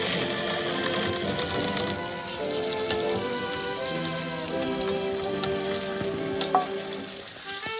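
Bacon frying at a 1920s-style motor camp, a steady crackling sizzle with scattered pops, close and continuous with no talk.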